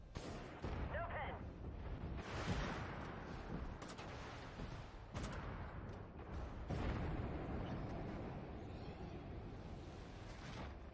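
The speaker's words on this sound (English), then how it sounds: "3 enemy vehicles destroyed." Enemy vehicles blow up in the tank combat game Armored War, heavy booming blasts and rumbling gunfire that sound continuously through the clip, with a few sharp bursts standing out.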